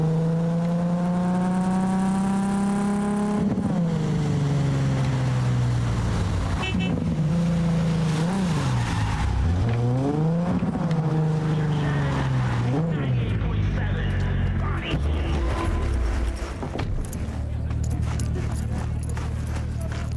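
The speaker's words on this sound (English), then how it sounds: "This car is loud, but really slow." A loud, slow car in the video game Cyberpunk 2077, its engine drone steady and sliding up and down in pitch as it drives, with heavy game music or effects layered on top throughout.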